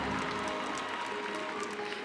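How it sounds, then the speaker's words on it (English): Steady crowd applause at a Miss South Africa pageant, many hands clapping at once, filling the clip at an even, moderate level with no pause. "That deserves a round of applause."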